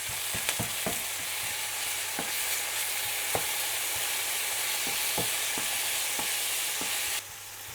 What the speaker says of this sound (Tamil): பச்சை மிளகாய், கொத்தமல்லி, கருவேப்பிலை, இஞ்சி பூண்டு விழுது, தக்காளி இதெல்லாம் வதங்கட்டும்